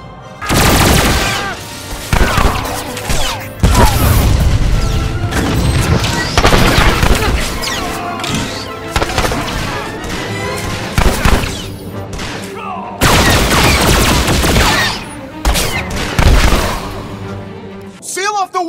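Blaster fire rattles in a Star Wars: The Old Republic firefight, loud, continuous volleys with heavy thuds and crashes, while voices shout over the shooting throughout.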